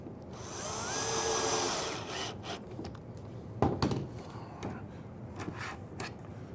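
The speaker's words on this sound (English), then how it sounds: "We're going to go ahead and put 2 screws in the slide." A cordless drill drives screws into a cabinet drawer slide. A quiet whirring run of about two seconds rises in pitch, then gives way to scattered clicks and handling knocks.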